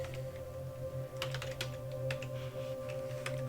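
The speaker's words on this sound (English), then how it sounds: "If I can type." Typing on a computer keyboard: a few quick, close key taps over a steady low electrical hum, with no talking.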